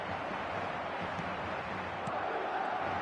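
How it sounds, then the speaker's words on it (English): A football stadium crowd at a Real Madrid match roars in a steady, broad wash of massed voices, distant and continuous, without distinct peaks. "the crowd are reacting to that now"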